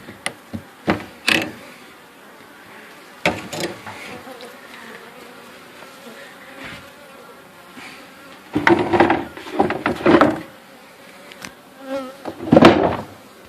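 Scout honey bees buzz around a wooden bait hive at a cabin, a steady close drone with louder passes as bees fly near, punctuated by sharp knocks and clunks, including a loud bursty stretch late on.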